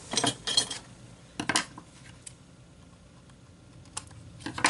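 Card paper being trimmed for cardmaking with a paper trimmer: a few sharp clicks and scraping slides in brief bursts, fairly close, separated by quiet pauses.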